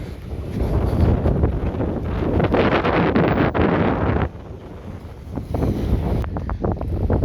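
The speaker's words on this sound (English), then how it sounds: "It's still real windy and gloomy." Strong gusty wind from Tropical Storm Claudette roars and buffets the microphone in Biloxi, easing briefly before rushing back in heavy blasts.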